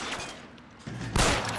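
Gunfire in L.A. Noire, a burst of sharp shots with a loud final blast near the end, crackling against a busy game background.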